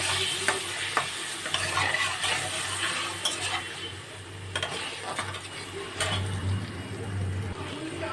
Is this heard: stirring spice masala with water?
yes